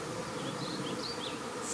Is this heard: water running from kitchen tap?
no